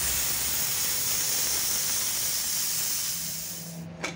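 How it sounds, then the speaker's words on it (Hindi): A loud, steady hiss of steam escapes from a pressure cooker holding keema, potatoes and peas, then tapers off near the end with a small clank. "तो कुकर से हमने सारा प्रेशर निकाल दिया है।"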